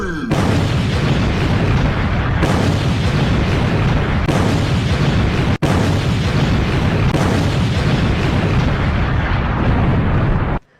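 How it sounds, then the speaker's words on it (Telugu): A machine explodes after the Hulk strikes it in GTA V, with a loud, sustained roar of booming blasts and crackling bursts that stays dense for about ten seconds and is broken by one sharp cut. "ఈ దెబ్బకి మొత్తం ఎక్స్ప్లోడ్ అయిపోవాలి ఆ మషిన్"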